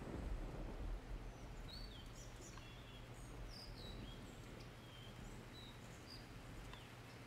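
Low, soft thunder rumbling in the distance in the outdoor survival game Open Country, swelling slightly at the start and then fading into a steady hush, with faint bird chirps scattered on top.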